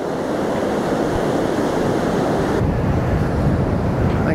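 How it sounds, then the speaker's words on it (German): Strong wind buffets the microphone on the beach at Zoutelande in Zeeland, with surf rolling behind it, a steady loud roar that fills the whole stretch without pause. "Jetzt wird es langsam ein bisschen frisch, weil der Wind auftritt langsam."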